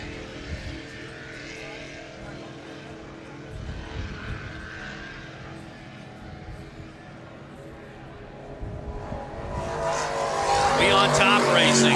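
Class 200 racing powerboats at the Key West world championships pass by, a steady engine drone under a commentator's voice that swells into a louder, rising roar toward the end.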